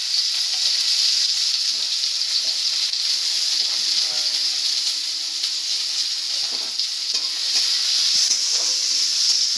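Onion added to hot oil in a home kitchen, frying with a steady, loud hiss and sizzle that runs unbroken throughout, with faint crackles and no voices.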